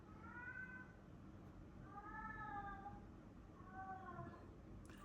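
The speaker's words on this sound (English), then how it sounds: "If you hear yowling, that is my cat." A pet cat locked out of a room yowls and meows from behind the door, giving three drawn-out, wavering cries with short pauses between them. The cries sound muffled and fairly distant over a quiet indoor hush.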